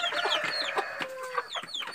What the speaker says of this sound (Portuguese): a franguinha é essa aí